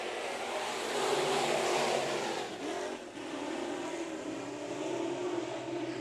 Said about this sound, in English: Cale Kankey's car looks like an SRL car. It's going.